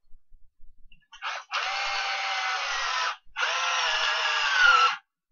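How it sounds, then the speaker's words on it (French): A power drill bores diagonally into wood in two sustained bursts, a short start and then two long whining runs separated by a pause, loud and close with no talk. "Donc ensuite il suffit de venir percer directement."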